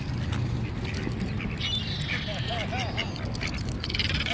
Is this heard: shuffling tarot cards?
no